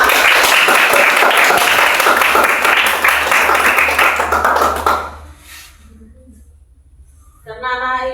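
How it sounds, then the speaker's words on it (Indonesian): A classroom of children applauds together in a dense, loud burst of clapping lasting about five seconds, then it dies away into quiet room noise before a voice begins speaking. "Ya, tepuk tangan untuk semua."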